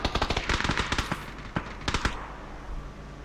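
Bursts of automatic gunfire from a team firefight in a video game, several rapid volleys in quick succession up front, then scattered single shots and a short burst before fading into quieter background.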